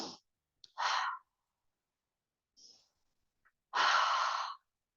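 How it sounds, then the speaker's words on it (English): Deep breaths drawn in during a yoga practice with a gentle chin tuck into Jalandhara Bandha: two slow, airy inhales, each about half a second to a second long, close and fairly soft, with a few faint short breaths between them. "Breathing in deeply."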